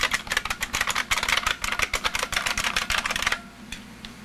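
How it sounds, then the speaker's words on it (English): Rapid, loud clacking keystrokes on an IBM Model M mechanical keyboard rattle in a fast irregular rhythm, then stop abruptly, leaving a faint hum. "My lovely IBM Model M keyboard."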